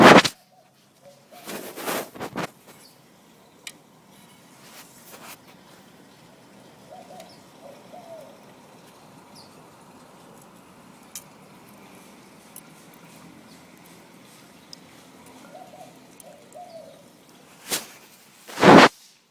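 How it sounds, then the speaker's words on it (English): Birds in a garden with pigeons or doves cooing softly, short low coos repeating at a distance over faint background, framed by sharp handling knocks and swishes at the start and end. "this garden attracts many different species of birds and bears fruit. It's just lovely to hear all the sounds"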